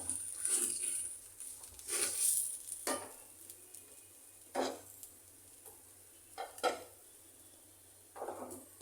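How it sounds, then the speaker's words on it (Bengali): Rice frying in a pot for chicken biryani: soft sizzling broken by several scraping stirs against the pot, with no talking. "আমার চালটা প্রায় ভাজা শেষ।"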